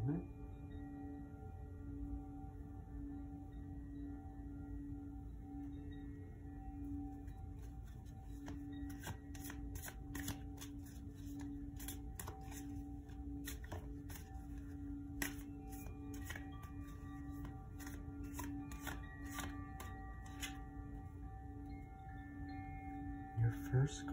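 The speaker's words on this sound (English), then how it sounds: "I will now grab my tarot deck, and I'm going to shuffle the cards" Tarot deck being shuffled, with a long run of soft crisp card riffles and flicks, close and quiet, over a steady low hum in a calm room.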